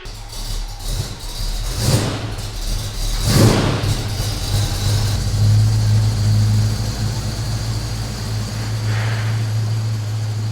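A 1976 Chevy K5 Blazer engine turns over and settles into a steady idle, with a low continuous rumble and a couple of louder revving swells early on, heard close and alone without talk.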